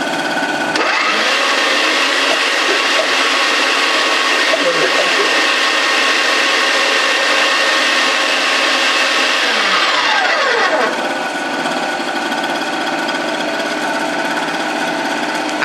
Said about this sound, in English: I shall now turn the mince grinder on